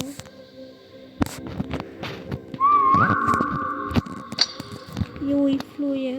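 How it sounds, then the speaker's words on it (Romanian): A player whistles during an SCP 3008 game session, a few rising and sliding whistle tones mixed in with game sounds and clicks, and some talk in between. "Eu-i fluier."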